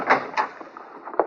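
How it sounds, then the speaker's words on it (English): A wooden door opening in an old western radio drama, a few soft knocks and creaks close by over a low steady hum, with faint movement between. "Like a body could open the door for theirself."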